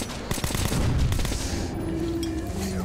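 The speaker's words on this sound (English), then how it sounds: "Let's throw a grenade." A grenade blast in Metro Last Light Redux, with a burst of booming, crackling impacts and rapid gunfire-like bangs up front that settle into a rumbling tail, loud and close.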